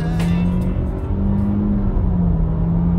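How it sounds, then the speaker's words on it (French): A Renault Austral 160 with an automatic gearbox accelerates from inside the cabin, its engine drone steady and loud and rising slightly in pitch throughout, with no talking. "on fait une petite accélération pendant avec Pierrick"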